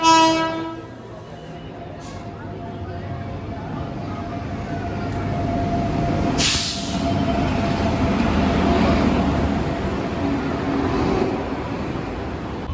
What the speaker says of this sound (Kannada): ಸೊ ಫೈನಲಿ ಟ್ರೈನ್ ಬಂತು, 1 ಗಂಟೆ ಡಿಲೇ